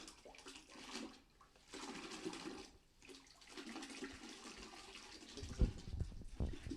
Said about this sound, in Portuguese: O que ele está fazendo é um processo de pré-diluição